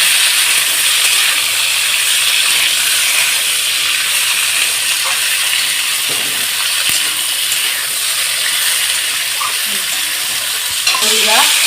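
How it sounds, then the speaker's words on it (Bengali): Potatoes, onions and green chillies fry in a pan until browning, giving a loud, continuous hiss-like sizzle with a few faint scrapes from stirring throughout. "এবার আলু পেঁয়াজ ভালো করে আমি আর এই কাঁচা লঙ্কা দিয়ে ভালো করে একটু বাদামি করে ভেজে নেব"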